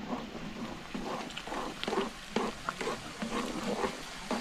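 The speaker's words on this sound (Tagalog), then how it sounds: "Kailangan po hahaluin para po hindi mamuo" A spoon stirs thickening chicken lomi soup with beaten egg and cornstarch in a pot, a soft, steady scraping and swishing with faint bubbling, continuous and close, with no voices over it.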